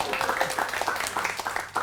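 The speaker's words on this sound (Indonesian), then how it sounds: "Jadi, tepuk tangan dulu." Audience at a stand-up comedy open mic claps, with dense, fairly close handclaps continuing steadily, punctuated by a few louder claps and faint voices underneath.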